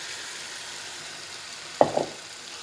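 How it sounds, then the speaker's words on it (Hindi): Mixed vegetables are tipped into spiced masala frying in a pan. After a quiet simmering background, a sudden short burst of sizzling crackle rises near the end and quickly fades. "अब हम इसमें वेजिटेबल्स ऐड कर देंगे सारी।"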